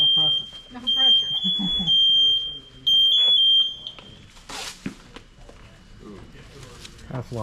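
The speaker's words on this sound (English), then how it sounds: "Pass alarm goes off for too long. Automatic fail." A firefighter's PASS alarm shrills in loud, sustained high-pitched tones that start and stop several times during a training evaluation, with people talking and moving around it.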